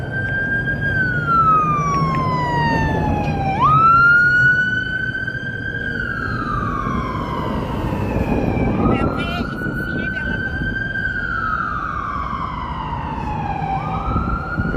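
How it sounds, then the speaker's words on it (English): Emergency vehicle sirens wail through a Chicago street near Navy Pier, rising and falling in long sweeping cycles that stay loud and steady over city traffic rumble, with voices talking faintly in the background. "And we got sirens"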